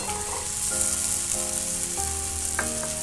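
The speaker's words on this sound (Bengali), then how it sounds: "তেল ছাড়তে শুরু করেছে, তো বেগুনটা আমি এবার দিয়ে দেব" Eggplant hits hot oil and cooked-down masala in a pan and fries with a loud, steady sizzle, with a few clinks and scrapes of a utensil stirring it, and no talking.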